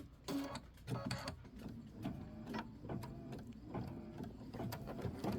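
An embroidery machine stitches a placement line for a quilted watermelon block, producing a faint, busy run of rapid mechanical ticks and needle clatter, close and steady with no talking.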